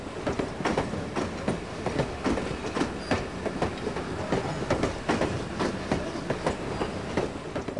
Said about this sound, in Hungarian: a mozgó vonatra felugorva egy világkörüli easter egg útra vizethetünk be